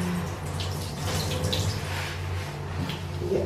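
A shower head runs steadily while locs are being washed, a continuous close hiss and splash of water with no talk over it.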